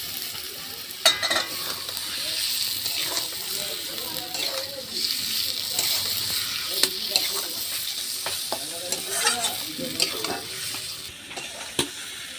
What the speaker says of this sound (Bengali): এবার সব মশলার সাথে এই আলুগুলো দিয়েও আমি ভালো করে কষিয়ে নেব।